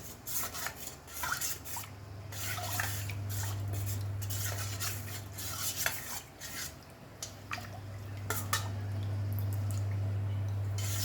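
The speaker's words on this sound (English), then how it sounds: "Give her a mix." A spoon stirs Goan sol kadhi, a coconut-free kokum drink with mint leaf and carom seed, clinking lightly against the vessel in scattered taps over a low steady hum.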